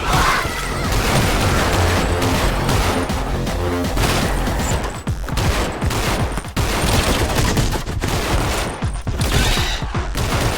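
Dual pistols fire in rapid, continuous volleys in the Anger Foot video game, loud and dense throughout, with crashes and impacts mixed into the shooting and no talking.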